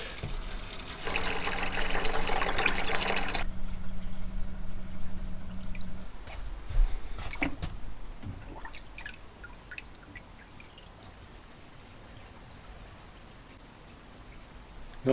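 Water drips and trickles from the sinks of a DIY Iveco Daily campervan, starting as a steady pouring rush, then thinning into scattered close drips and faint gurgles that slowly fade.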